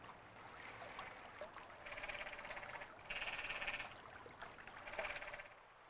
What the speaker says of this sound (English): It's the croak of the canyon tree frog, probably the most commonly heard amphibian in the park.